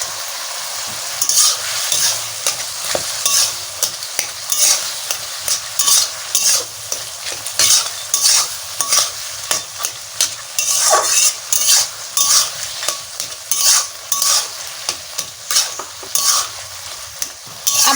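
Prawns stir-frying with bottle gourd in a pan make a loud, steady sizzle broken by repeated scraping strokes of a spatula against the metal, with no talking.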